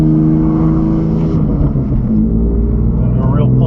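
A BMW F80 M3 with its stock airbox reinstalled drives along, its engine giving a steady, loud drone with harmonic tones that shift as it moves, all inside the cabin.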